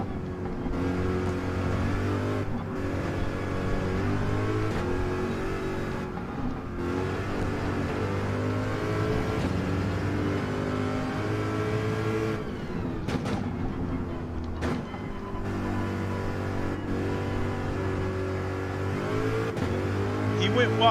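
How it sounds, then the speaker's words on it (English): Honda NSX engine at full throttle in the Gran Turismo 7 racing game, played on PSVR 2: a loud, sustained engine drone whose pitch rises and dips with gear changes and throttle, continuing with brief breaks. "With the NSX, I can punch it full throttle from there."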